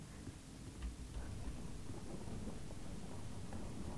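Rain and rolling thunder inside the Roblox horror game Doors, a dense steady downpour with low rumbles, fairly quiet and with no voices over it.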